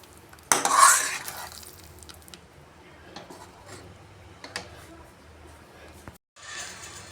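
A spoon stirs and scrapes thickening halwa in a pan, giving soft repeated scraping and clinks. One sharp burst sounds near the start, quieter stirring follows, and a brief hiss comes near the end.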